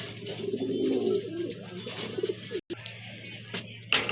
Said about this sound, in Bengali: আরেক জোড়া রেসার কবুতর চলে আসছে এখানে